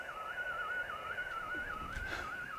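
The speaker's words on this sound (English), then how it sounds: "I say recognizable because it sounds like this on 24 gig." A 24 GHz microwave beacon signal received as a steady whistling tone with a slow, regular warble, loud and continuous over a hiss of background noise, with no talk.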